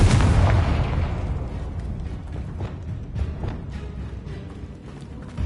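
A Confringo spell explodes in Hogwarts Legacy with a loud booming blast at the start that decays into a rumbling tail, followed by scattered smaller pops and crackles.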